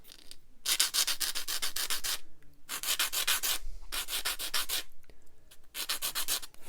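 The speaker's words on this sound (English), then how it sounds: "so we'll just turn that over and then file some more" A hand file smooths a scratch-built plastic door for a 1/48 scale Airfix English Electric Canberra model kit, giving close, bright rasping strokes in four rhythmic bursts separated by short pauses, with no talking.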